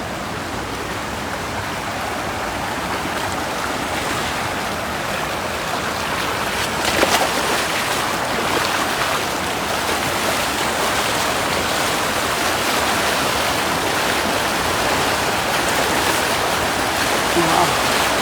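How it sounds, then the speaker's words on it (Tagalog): Strong river current rushes loudly and steadily, a dense broadband roar of turbulent water filling the scene close by, with a brief louder surge partway through and no talking. "Napakalakas yung agos ng tubig, idol."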